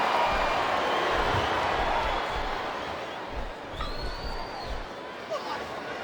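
In the WWE SmackDown vs Raw 2007 wrestling video game, an ECW One Night Stand arena crowd roars loudly, then settles into a lower, sustained murmur while a commentator talks over it.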